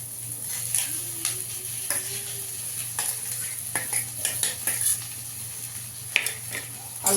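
Potato pieces tipped into a pan of onions and chopped green chillies frying in oil, a steady close sizzle with scraping stirs and light utensil clicks, no talk.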